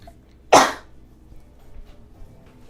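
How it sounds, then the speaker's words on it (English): One sharp, loud sneeze bursts out close by, followed by quiet room sound. "Ooh, I have to sneeze."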